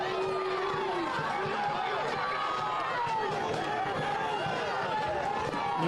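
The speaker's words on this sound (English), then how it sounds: "You can hear the displeasure from the Sarasota crowd" A stadium crowd at a Sarasota Paradise versus AV Alta FC soccer match voices its displeasure in a steady, dense roar of jeers and whistles that never lets up.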